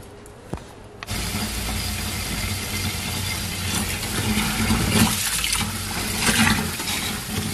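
Water running and pouring steadily over raw rice in a vessel to soak it for making rice vathal, a continuous splashing rush that starts abruptly after a brief quiet and carries on loud and close throughout.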